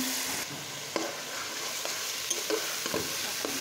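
Rice being stirred and fried in a pan to make pulao, a steady dry sizzle with scraping strokes from a utensil at irregular intervals, close by, no voices.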